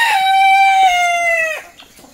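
A rooster crows loudly and close by in one long, sustained call that cuts off sharply near the end. A few faint clucks follow as it fades.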